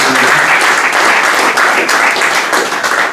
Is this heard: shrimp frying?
no